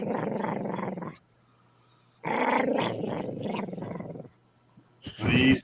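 A dog being wound up by its owner growls in loud, rumbling bursts close by, with a long growl, a pause, another sustained growl, then a short final snarl.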